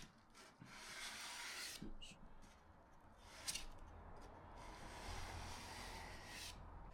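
Steady dry rubbing of sandpaper scuffing back stained wood before lacquer, a continuous close abrasive hiss with a few brief stroke accents, heard alone.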